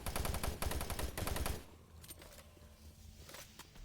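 Machine-gun fire in the Doom 3 video game: a dense burst of rapid shots for about a second and a half, then it stops, leaving quieter game ambience with a few faint distant bangs.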